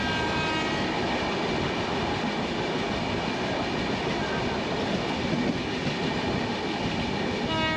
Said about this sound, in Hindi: तो ये हमारी ट्रेन गाज़ियाबाद स्किप कर रही है